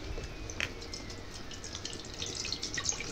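A small tub is filled with water from a tap for a citric acid experiment, giving a steady, fairly quiet stream of running water with light splashy trickles.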